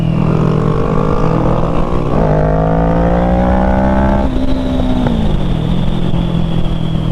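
A motorcycle with a freshly fixed clutch screams through hard acceleration on a late-night ride, its loud engine rising in pitch through several gear changes, close and continuous, without talk.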